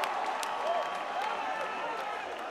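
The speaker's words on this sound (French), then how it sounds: "Applaudissez ça, chers amis." A rally crowd of young supporters applauds and cheers in a steady, fairly loud wash of clapping, with a voice calling out over the noise.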